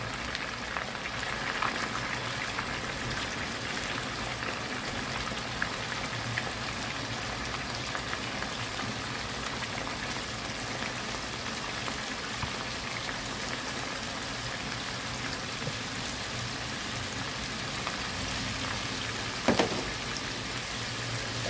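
Steady, dense crackling and sizzling of sea bass pieces frying in hot oil in a Teflon pan, continuous and fairly loud throughout, with a brief clink near the end.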